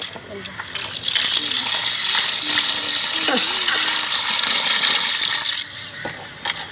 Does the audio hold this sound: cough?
no